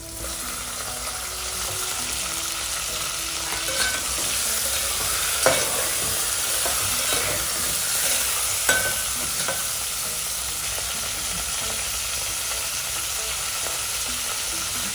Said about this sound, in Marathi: आता आपण याच्यामध्ये मच्छी धुतलेली टाकून हळद मीठ टाकून परतून घेऊया.